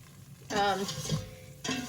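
Whisking a broccoli cheddar soup base in a pot on medium-low heat, giving two bursts of scraping, stirring strokes with a soft sizzle under them and a brief lull in between.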